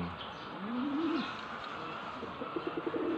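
A Taiwan pigeon kept for breeding gives a soft, rolling coo followed by a short run of quick repeated notes, close by against a faint background hum.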